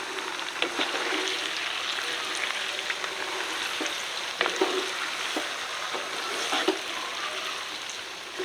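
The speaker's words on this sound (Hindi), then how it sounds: "चिकन है 1 kg। ये ऐड करने के बाद इसको हम हिलाएंगे।" A kilogram of chicken frying in a pot while being stirred, giving a steady close sizzle with scattered soft scraping clicks and no talking.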